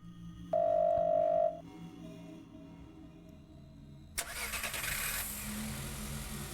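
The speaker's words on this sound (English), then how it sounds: "The sound of a car starting is coming from outside the door." Outside the door, a car engine cranks and catches with a sudden loud burst, then settles into a steady rumbling idle; a brief electronic tone sounds earlier.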